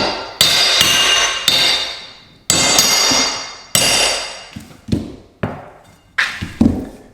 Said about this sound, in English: you just hook it there on the end, tap this with a hammer